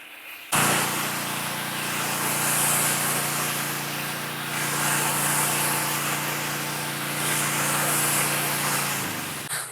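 A Graco gas pressure washer's engine starts up about half a second in, then runs loud and steady with a constant droning hum and broadband rush that holds to the end, with no voices.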